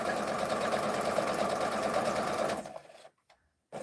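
Sewing machine stitching quilt blocks for arrowhead blocks, a steady close whirring run of rapid stitches that stops about two and a half seconds in, leaving near silence with a faint rustle at the end.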